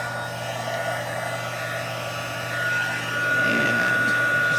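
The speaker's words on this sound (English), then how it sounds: "This is the Stampin' Up heat tool. You warm this up for a second." Stampin' Up heat tool blowing hot air for crafting, a steady loud whirring fan hiss that holds throughout and swells slightly louder near the end, with no talk over it.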